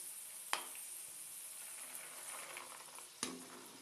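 Peanuts fry in oil with a soft, steady sizzle, punctuated by two sharp clicks or pops.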